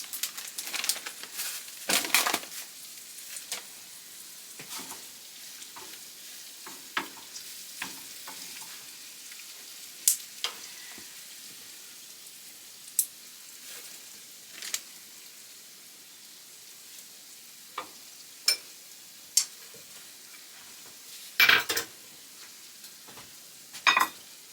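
Eggs frying in a pan for a home beef-and-vegetable stir-fry: a quiet, steady sizzle broken by scattered sharp crackles and pops, with no one talking.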